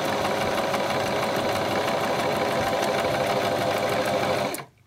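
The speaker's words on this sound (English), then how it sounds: "we're going to start sewing." A sewing machine fitted with a quarter-inch quilting foot with guide stitches through fabric in one continuous, fast mechanical whir, close and steady, then stops abruptly near the end.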